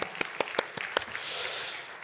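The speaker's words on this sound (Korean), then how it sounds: "우리 박수로 한 번만 더 축복합니다" A few sharp, separate claps ring out in a Korean church service, then the congregation's applause swells into a fuller, hissing burst before it fades.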